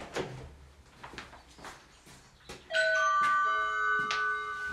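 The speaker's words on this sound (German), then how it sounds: "Oh, es hat gerade geklingelt." Doorbell ringing indoors: several bright sustained chime tones sound clearly and loudly after a few quieter knocks or movements, with no talk over the chime.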